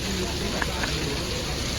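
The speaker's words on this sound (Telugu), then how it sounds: "సో బయట అంతా వర్షం పడుతున్నాను" Rain pours steadily outdoors in Bali, an even wash of drops spread all around, with faint talk underneath.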